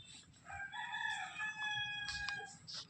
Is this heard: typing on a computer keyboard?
no